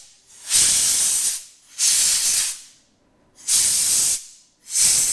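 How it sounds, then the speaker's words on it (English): Compressed air blasting the oil screen of a KTM 350 EXC-F dirt bike, four loud, close bursts of hissing air, each about a second long, separated by short silent gaps. "I just cleaned it off with a little cleaner, and I'm just going to kind of blow it off."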